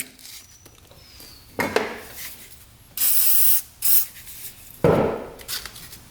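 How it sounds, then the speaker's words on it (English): Aerosol bursts of WD-40 sprayed into a Honda ATV carburetor, several short hissing sprays of varying length, close and loud, with no talking. "what I like to do is put a little WD-40 on there"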